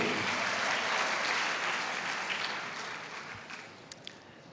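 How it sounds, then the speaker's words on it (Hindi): An audience at a motivational poetry show in a university hall claps steadily in a sustained, even wash of applause that slowly thins toward the end, with a couple of sharper claps standing out. "सुनना चाहते हैं तो तालियां बजा दीजिए एक बार"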